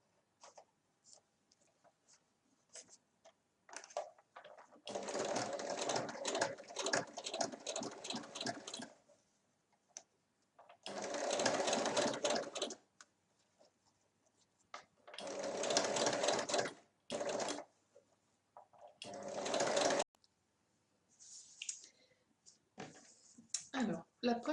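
A sewing machine stitches a lining for a half-moon pencil case in quick rattling bursts of a few seconds each, separated by pauses, close by. A quiet voice speaks in the gaps.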